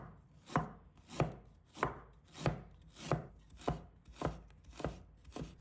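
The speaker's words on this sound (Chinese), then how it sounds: "把它切成薄片。" Knife chopping fresh ginger into thin slices on a cutting board, about ten steady, evenly spaced crisp cuts, close and clear with no talking.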